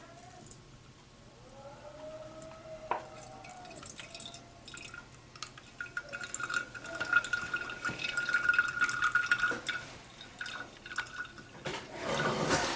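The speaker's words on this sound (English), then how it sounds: "to demonstrate what we got left, we're going to use this handy dandy strainer" Blended celery from a Nutribullet Classic poured through a handheld strainer, giving soft close dripping and trickling liquid sounds that build steadily louder over time, with no talking.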